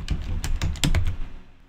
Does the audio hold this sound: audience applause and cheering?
no